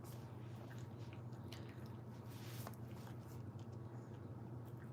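A dog chews on a toy, producing soft wet squishing and biting sounds that sit faintly under a steady low room hum, with no speech.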